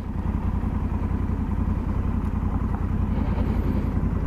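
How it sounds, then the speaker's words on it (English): A Honda Africa Twin motorcycle rides on gravel with a steady, throbbing engine rumble and a faint crunch underneath, loud and close and constant, with no talking. "y'all got to see the Africa Twin on some gravel"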